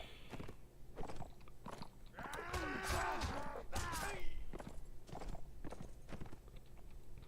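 Horse hooves clip-clopping in the video game Mount & Blade, a run of quick crunchy impacts during mounted combat, mid-loud and mixed with other battle noise.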